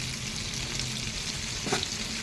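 Potatoes sizzle in a pan of frying taro curry, a close, steady hiss with a brief louder scrape or splash near the end.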